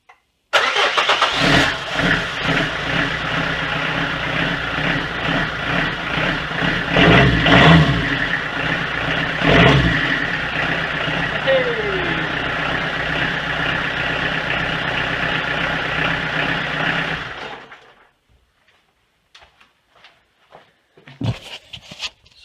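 A Peugeot XUD diesel engine running on vegetable oil cranks, catches and settles into a loud, lumpy, clattering idle with a couple of revving surges. It runs for about seventeen seconds before shutting off, leaving faint clicks and knocks.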